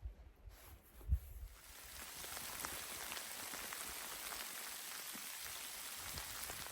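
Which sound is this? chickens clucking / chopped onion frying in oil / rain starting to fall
rain starting to fall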